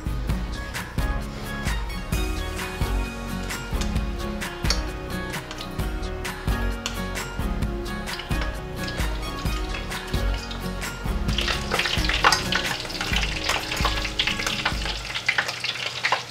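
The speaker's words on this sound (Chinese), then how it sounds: "现在让它继续再炸上色" Bitter melon dipped in a thick batter deep-frying in a generous amount of oil, giving a steady crackling sizzle under background music that grows brighter and louder toward the end.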